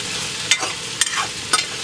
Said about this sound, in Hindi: प्याज तो अभी हमारा भूज रहा है ये देखिए